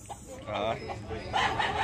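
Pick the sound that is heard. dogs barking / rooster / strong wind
rooster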